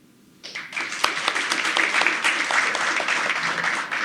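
After a quiet moment, applause from an audience at a Mexico City commemoration of Francisco I. Madero's 150th birth anniversary breaks out and holds steady, a dense, even clatter of many hands.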